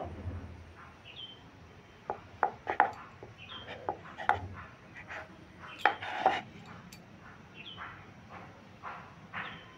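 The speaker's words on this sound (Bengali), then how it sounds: "আবার এটাকে মাছ বরাবর কেটে নেব।" A knife chops through rolled-out goja dough on a board, a string of sharp, distinct taps and knocks at irregular spacing, close and fairly quiet, with no talking.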